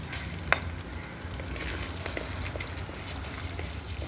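Chana dal and urad dal fry in oil in a pan for a roti pachadi, giving a steady soft sizzle throughout with one brief clink of a spoon early on.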